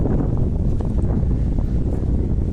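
Strong outdoor wind buffeting a microphone, producing a constant heavy low rumble and roar that stays loud and unbroken throughout, with no voices over it.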